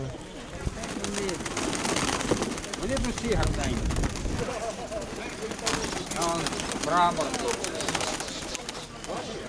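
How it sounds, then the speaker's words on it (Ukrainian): Pigeons coo repeatedly at an outdoor fair in Pervomaisk, soft throaty calls rising and falling up close while people talk over them throughout amid busy crowd noise. "То голуб? по-моєму, голубок, так."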